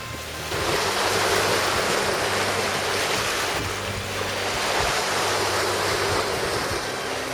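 Waves of the incoming tide wash over a rocky shore at Trearddur Bay, Anglesey, a steady loud surf roar with wind buffeting the microphone and no talk.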